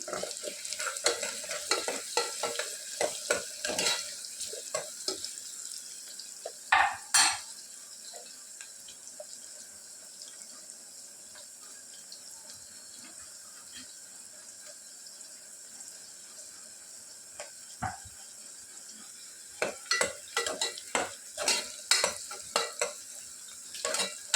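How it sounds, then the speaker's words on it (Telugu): Onions frying with turmeric in a pan, quiet background sizzle broken by clusters of spatula scrapes and stirring clatter near the start and again toward the end, with a calmer stretch in between. "ఆనియన్స్ మంచి గోల్డెన్ బ్రౌన్ కలర్లో వచ్చేంత వరకు ఫ్రై చేసుకోవాలి."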